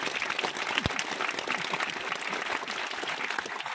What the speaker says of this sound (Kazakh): Ана, қол шапалақтап алыңыздар